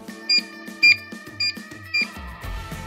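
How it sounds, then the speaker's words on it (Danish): A LogiCO2 Power Monitor sounds its audible power-failure alarm, four loud electronic beeps in a steady pulse, followed by a few fainter chime-like tones. "Power Monitoren giver en hørbar alarm, hvis strømmen af en eller anden grund til systemet forstyrres."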